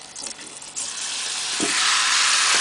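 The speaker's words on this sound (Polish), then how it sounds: "Na rozgrzaną patelnię wrzucamy nasze fajitas" Fajitas sizzle loudly in a hot pan, a steady bright crackle that swells after a moment, with a couple of soft knocks of utensils.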